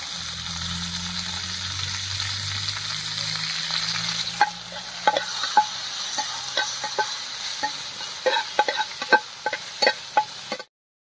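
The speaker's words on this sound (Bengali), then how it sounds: "এবার কড়াইতে একটুখানি ঘি দিয়ে কাজু আর কিশমিশ ভেজে নেব।" Cashews and raisins frying in ghee in a wok, a soft steady sizzle with a series of sharp stirring clinks and scrapes growing more frequent before it stops abruptly.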